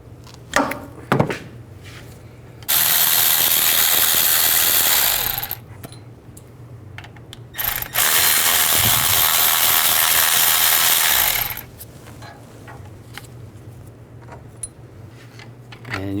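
Tool breaking free the brake caliper bolts on a 2002-06 Chevy Avalanche, two loud sustained rattling bursts of several seconds each, with clunks and metallic knocks before and between them.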